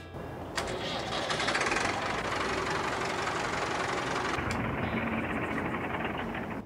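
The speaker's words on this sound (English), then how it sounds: "Let's go ahead and turn that engine over." A tractor engine in a farming video game mod cranks and catches about half a second in, then settles into a steady, loud idle that runs unbroken to the end, with no talking.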